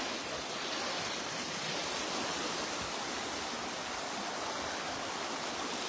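Floodwater after rain rushes across a washed-out road in Aiken County, a steady broadband roar like a fast stream, constant and close with no voices over it.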